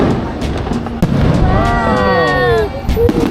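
Fireworks go off in a series of close cracks and booms that punctuate the whole stretch, while a high wavering cry rises and falls between the bursts.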